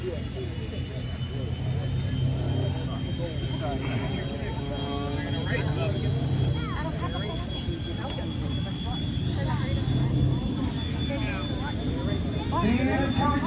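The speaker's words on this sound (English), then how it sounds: "Stephen Covington and the Fury's getting a fast start." A Fury aerobatic airplane makes a fast start at an air show, its engine a steady, continuous drone while an announcer talks over it throughout.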